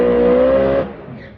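A Honda Civic EK race car with big cams at a drag strip holds a high, loud, steady rev with a strong engine tone before it abruptly cuts off and drops into a quieter rumble.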